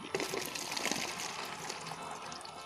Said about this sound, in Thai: เราก็จะใส่ น้ำมะพร้าวลงไป 2 ลูกนะครับ